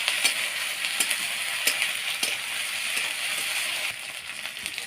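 Ginger-garlic paste, chopped tomato and chili paste fry in a pan for an egg curry, making a steady, fairly loud sizzling hiss that runs throughout with scattered small crackles and clicks.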